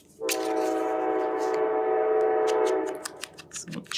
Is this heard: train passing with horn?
yes